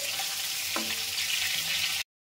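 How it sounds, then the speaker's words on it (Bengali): Pieces of pointed gourd frying in hot oil in a pan for a vegetarian dish: a close, steady sizzle with a brief scrape of a utensil partway through, ending abruptly. "এবার আমি পটলগুলো এই তেলে ভেজে নেব।"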